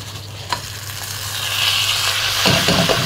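Washed rice tipped into golden fried vermicelli in hot fat, giving a steady close sizzle with a burst of scraping stirring toward the end, no voices.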